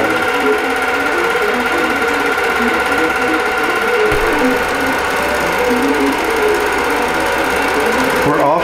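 A quilting sewing machine stitches along the left edge of a wholecloth quilt's border in one long unbroken run, a loud, close, even motor hum with rapid needle patter throughout.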